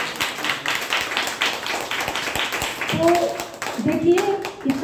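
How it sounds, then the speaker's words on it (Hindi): An audience claps at a DXN program in Bhagwanpur, a scattered patter of many hands that swells into fuller applause, with speaking voices rising over it near the end. "प्लीज जोरदार ताली।"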